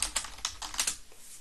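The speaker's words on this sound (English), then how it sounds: "You gotta type your password right to install stuff." Quick bursts of keystrokes on a computer keyboard while a password is entered, about eight close, crisp clicks in an uneven rhythm that trail off.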